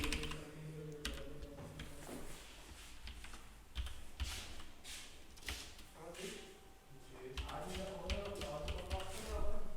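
Rapid, uneven clacking of keys on a computer keyboard as an email address is entered, light taps in quick bursts under a talking voice, close and quiet.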